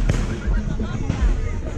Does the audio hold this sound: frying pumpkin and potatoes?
no